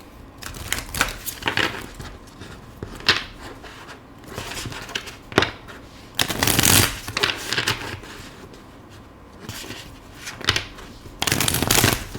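Tarot cards are shuffled up close in a series of rapid riffling bursts, with soft shuffling and handling between them.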